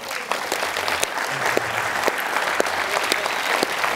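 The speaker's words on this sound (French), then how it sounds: "On les applaudit." An audience at a final campaign rally in Cahors, France, claps loudly and continuously, with scattered sharp individual claps standing out from the crowd's steady applause.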